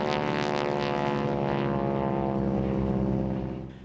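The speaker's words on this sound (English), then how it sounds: "The planes the Geico Skytypers fly are SNJs, as the Navy called them, or T-6s as they're more commonly known as." A North American SNJ, also known as the T-6, drones past in flight, its propeller engine giving a loud, steady, harmonic roar that stays close before easing slightly at the end.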